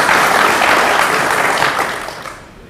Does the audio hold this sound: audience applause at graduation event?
yes